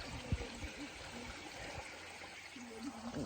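A stream flows in Iceland with a steady, quiet rushing wash, while faint voices murmur underneath.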